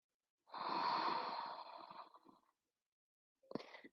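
One long, close, deep breath during a yoga exercise, a breathy exhale that tapers off, followed by a short sharp intake of breath after a pause of silence.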